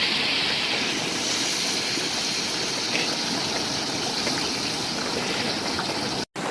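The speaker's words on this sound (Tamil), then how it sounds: "வந்து எண்ணெய் நல்லா பொரிச்சிக்கிச்சு வெங்காயம் போட்டுக்கலாம்." Onions sizzling in hot oil in a large pot for chicken dum biryani, a loud, even, continuous frying hiss heard up close with no talk.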